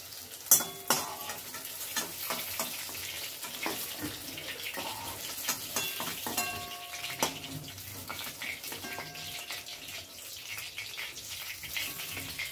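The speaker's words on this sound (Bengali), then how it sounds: "বাকি সোয়াবিনগুলো এইভাবেই ফ্রাই করে নেব।" Soybean chunks frying in oil and being stirred: a steady sizzle runs throughout, broken by scraping and clinking from the stirring and a few sharper knocks near the start.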